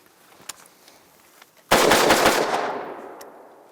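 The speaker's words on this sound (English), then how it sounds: "Put a few rounds through it." Several rapid gunshots fired into a car trunk outdoors, a loud close burst of cracks in quick succession that decays into a rolling echo.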